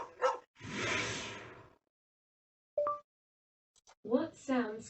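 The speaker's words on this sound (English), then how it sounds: "This is the sound of a dog auditioning to pull Father Christmas's sleigh." A dog barks in a few short, isolated bursts alongside a noisy swoosh, with gaps of silence between them and a voice speaking near the end.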